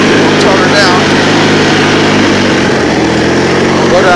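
Engine running at roughly half throttle on a race track, a steady, loud continuous drone with a rough low hum filling the whole stretch, with talking over it.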